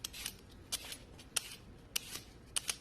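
Radishes are peeled for cubed radish kimchi in a string of sharp, quick scraping strokes that come in irregular bursts, up close and without talk.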